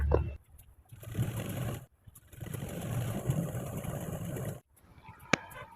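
A sewing machine runs in steady bursts while stitching a seam on a frock, with a continuous mechanical whir broken by short pauses and ending in a sharp click.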